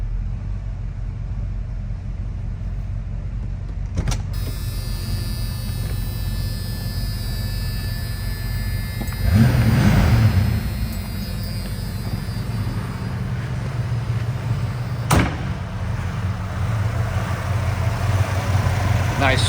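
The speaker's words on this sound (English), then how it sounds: "Nice smooth running V8." A 1984 Ford Mustang GT350 V8 runs at a steady, smooth idle, a continuous low rumble heard close up with brief clicks and a swell in the middle.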